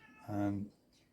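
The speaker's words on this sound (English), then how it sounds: "Excuse the cat, been a nuisance." A single drawn-out cat meow rises briefly in a quiet indoor room where model railway wagon loads are being made, close and moderately loud against faint background noise.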